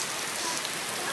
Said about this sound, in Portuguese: E agora tá chovendo bastante.